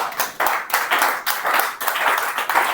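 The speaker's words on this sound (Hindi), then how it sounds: "तालियां हो जाए, तालियां।" An audience claps steadily at a direct selling business training session, a fairly close, busy patter of many hands in uneven bursts lasting a few seconds, with no voices over it.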